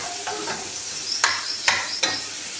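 Whole spices frying in hot oil for a dal tadka: a steady sizzling hiss with three sharp clinks of a spoon stirring against the pan, close and fairly loud, no voices.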